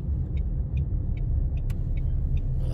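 A manual-transmission car on a driving lesson, a steady low engine and road rumble inside the cabin with a soft rhythmic ticking, likely the turn signal, over the top.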